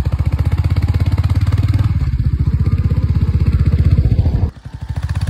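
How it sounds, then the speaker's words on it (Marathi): A motorcycle engine pulses loudly and close up while riding, its throbbing beat steady, then briefly dropping as the revs change near the end. "मी आता बाईक चालवत आहे"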